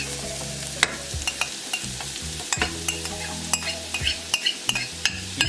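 Scallions and thyme fry in a pan while a utensil stirs them, making a sizzle under repeated scraping strokes, close up and fairly loud, with no talking.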